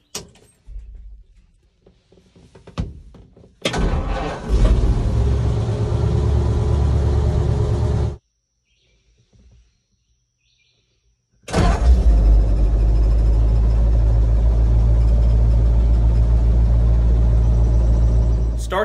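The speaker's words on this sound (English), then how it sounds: "start the vehicle up. The starter should crank over faster." Flathead Ford engine converted to 12 volts: a brief handling sound, then a loud close crank and run that stops abruptly, a few seconds of near silence, and the engine firing up again and running steadily at a heavy, even rumble.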